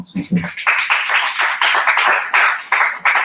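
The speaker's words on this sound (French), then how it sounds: "je vous demanderai d'applaudir Overmaster" An audience breaks into brisk applause for Overmaster at a GameX event, starting right after a brief spoken word and holding loud and dense to the end.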